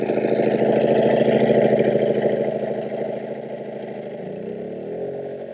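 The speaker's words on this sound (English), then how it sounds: "So it's starting up. It's going to be a little bit louder at first." A Wen 56235i portable gasoline inverter generator runs steadily right after starting, a loud, close, continuous engine drone. Partway through it settles down to a slightly lower, softer hum.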